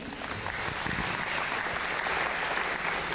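Middle school students and guests at a school space-talk event applaud loudly and densely, a continuous wash of clapping that holds steady throughout.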